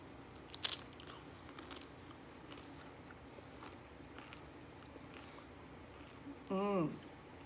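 Mango guacamole being bitten and chewed, with a sharp crunchy bite near the start, then quiet mouth sounds over a low background and a brief voiced sound near the end.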